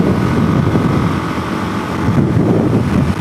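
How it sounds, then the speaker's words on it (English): Strong wind buffets a DRZ400S motorcycle rider on the move, a loud, continuous roar of wind noise mixed with engine rumble that stays close and steady throughout. "it's literally sustaining 30 miles an hour wind"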